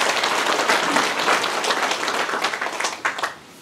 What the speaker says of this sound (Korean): 다시 한번 박수로서 성원 부탁드리겠습니다.